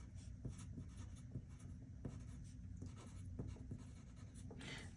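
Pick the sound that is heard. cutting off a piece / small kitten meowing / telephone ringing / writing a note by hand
writing a note by hand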